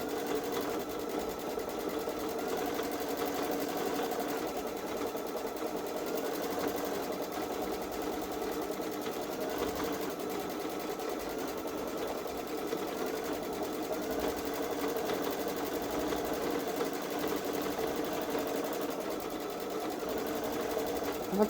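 A Babylock Solaris Vision sewing machine runs continuously, stitching an edge-to-edge Halloween gnome quilt with a steady, close mechanical whir throughout, without pauses or talk.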